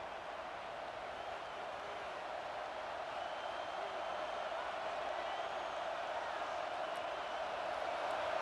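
A stadium crowd at an Illinois Fighting Illini versus Wisconsin Badgers college football game on third down, a steady, dense roar of distant cheering that holds at an even level throughout.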